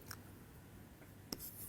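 Faint, sparse strokes of writing on a board during a physics lecture, with a brief sharper tap near the end in a quiet room and no talking.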